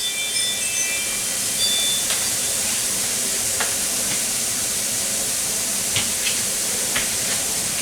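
Pumpkin and shrimp cooking in oil hiss and sizzle steadily in a pan, a loud even frying noise with a few faint pops and crackles, no voices.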